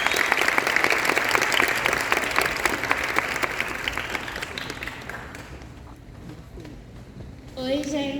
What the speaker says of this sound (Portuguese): Heloísa Coelho, palmas!